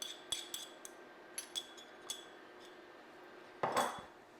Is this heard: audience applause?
no